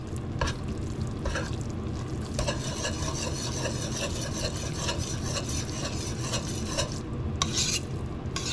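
Ground beef stirred in a pan, a steady scraping and shuffling of spoon against metal with a soft sizzle underneath, continuous and close for the whole stretch with no talking.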